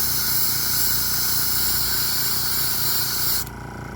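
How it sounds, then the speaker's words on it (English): An airbrush sprays paint while weathering model railway rolling stock, giving a steady close hiss that runs unbroken for several seconds and then cuts to a quieter, duller tone near the end. No one speaks. "now we have a spray coming out of the gun"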